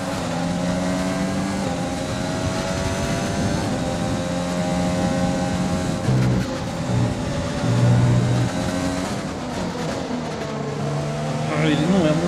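An F1 race car engine in the F1 2020 video game, set at the Hungarian Grand Prix: a high, steady engine whine shifting pitch through gear changes and braking, running continuously under someone talking.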